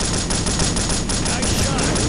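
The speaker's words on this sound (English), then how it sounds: "Cover me. Laying down cover fire." Sustained machine gun cover fire in the Delta Force Black Hawk Down video game, a loud dense rattle of rapid shots filling the whole moment.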